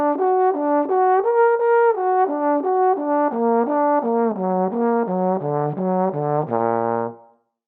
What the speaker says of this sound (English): We could also practice exercises based around the major third, which some of you might know create an augmented triad.